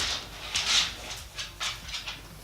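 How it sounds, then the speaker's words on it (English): A pet dog close by gives a few soft whines and snuffling breaths in quick short bursts, faint against a quiet indoor room. "my dog."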